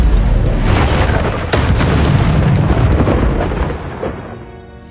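The Incendio fire spell in Hogwarts Legacy goes off with a loud, deep whooshing boom that rolls on and slowly fades over several seconds.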